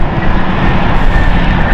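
A jet airliner's engines roar loud and steady at London City Airport on a stormy night, a dense continuous rumble with no voices.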